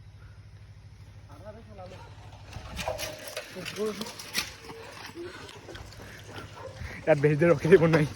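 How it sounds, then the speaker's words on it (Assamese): Several dogs bark near a Naga house on the way to a waterfall, in a few short, uneven bursts between steady low background hum. Someone talks over them, and a louder clustered bark comes near the end. "ইয়াত মানে বহুত কুকুৰ আছে আকৌ। বোলে ভুকি আছে,"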